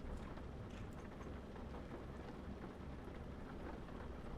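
Steady rain from the Euro Truck Simulator video game pours continuously and fairly loud throughout, with a dense hiss and low rumble like heavy rain on a surface, no voices over it.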